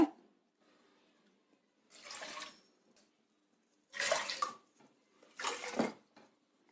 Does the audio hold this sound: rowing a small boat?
no